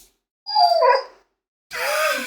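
A pet dog named Miss Maple gives two short, close howling whines, the first rising and wavering, the second a longer higher-pitched yowl, separated by a brief silence.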